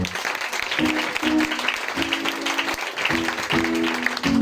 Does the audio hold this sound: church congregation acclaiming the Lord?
yes